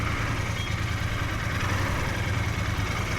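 A Royal Enfield Bear 650 motorcycle idles at a red light, its engine holding a steady low rumble from close by with no talk over it.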